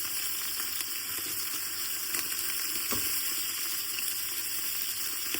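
Beef bones and marrow pieces sizzle steadily in a pot as they brown, a constant crackling fry with occasional sharper pops and light stirring knocks, no voices.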